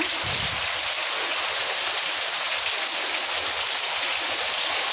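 Steady winter rain falls continuously, a dense even hiss of drops with no voices, close and moderately loud throughout.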